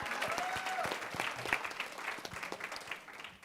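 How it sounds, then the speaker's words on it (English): Audience at a youth panel discussion giving a round of applause, steady crisp clapping from a room of people with a brief whistle near the start. "Can we give her a round of applause for that?"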